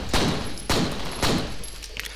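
Three loud, sharp pistol shots spaced roughly half a second apart ring out alone in the first-person shooter game F.E.A.R., each with a short echoing tail.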